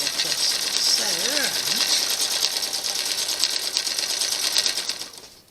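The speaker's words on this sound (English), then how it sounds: "And I just sew" A sewing machine stitches steadily through quilt patchwork, a close, fast, even mechanical whirring with rapid needle clatter that runs continuously before stopping at the very end, with a voice briefly humming or murmuring over it.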